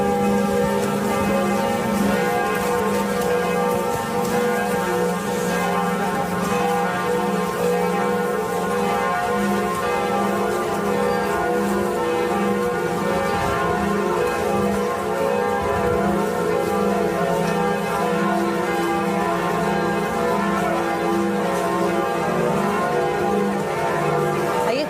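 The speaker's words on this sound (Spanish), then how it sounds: "Otro lugar del mundo que ha despedido al Papa Francisco con campanadas avisando de su muerte fue en este caso la iglesia de Notre Dame." The church bells of Notre Dame in Paris toll to mark the death of Pope Francis, steady overlapping strokes whose long, ringing tones layer into a continuous resonant peal with no voices.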